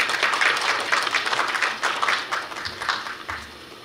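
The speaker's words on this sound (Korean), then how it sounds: "박수로 환영해 주시기 바랍니다." Audience clapping greets a newly introduced student at a Korea University KU-KIST graduate school entrance ceremony, a few seconds of lively applause from a modest crowd that gradually thins and dies away.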